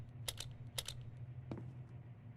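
Keypad presses in the Obduction puzzle game: a few quick, faint clicks in two short clusters, then a single duller tap, over a low steady hum with no voices.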